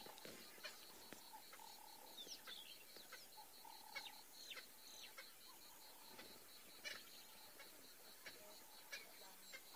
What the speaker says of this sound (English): There's a Swainson Spurfowl that is not happy with the presence of the lions.